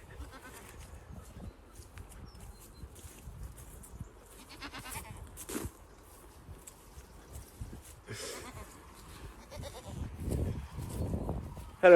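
Goats bleating in a farm herd, with a new male among them, heard as scattered calls at moderate distance over a low background, with louder bleats toward the end.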